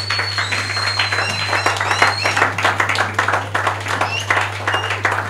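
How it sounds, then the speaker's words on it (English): A church congregation on its feet claps and cheers during a service, dense steady applause with voices calling out through it, a constant low hum underneath. "Can you be on your feet and clap for Jesus for her?"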